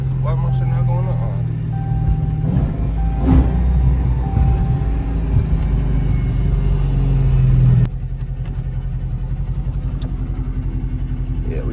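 Loud, steady low rumble of a Dodge Hellcat idling with catless mid pipes and an exhaust leak, heard from close by on wet ground, with the tone shifting partway through as windows go up, while people talk over it.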